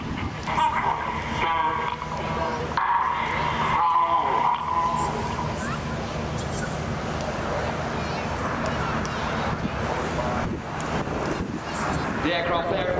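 Red Arrows jet aircraft flying a display at about 2,500 feet overhead, heard as a continuous broad roar that fills the whole stretch, with voices talking over it.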